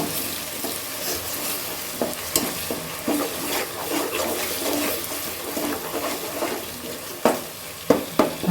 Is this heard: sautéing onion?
yes